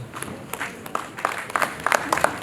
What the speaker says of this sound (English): You can clap, you can do better, you can do better, please.